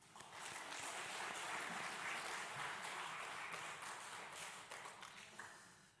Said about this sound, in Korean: 우리 할렐루야 찬양대, 또 우리 주일 경배 찬양팀 축복하고 격려하는 박수 하겠습니다